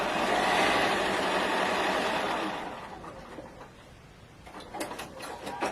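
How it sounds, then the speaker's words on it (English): Sewing machine stitching all the way around a quilt piece, a steady close mechanical whir for the first few seconds that then stops, leaving quieter room noise and a few light clicks and handling sounds. "So I've just sewn all the way around."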